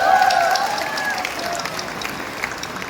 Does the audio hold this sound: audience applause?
yes